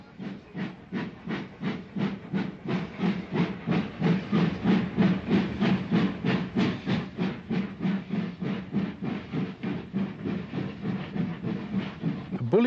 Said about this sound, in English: where a BR Standard Class 5 passes through the station